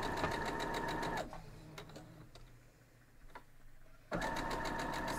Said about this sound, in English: Let's go sew that up.